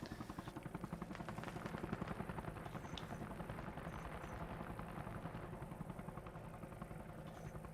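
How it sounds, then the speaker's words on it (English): Military helicopters in the video game Arma Reforger thrum with a steady, loud rotor chop that fills the whole stretch, alongside a broad rumble, with no talk over it. "let's wait till those choppers leave"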